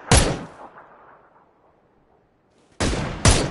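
Gunfire in the PUBG video game on PS4: one loud, sharp shot whose echo fades slowly, then a pause and two more close, punchy shots in quick succession.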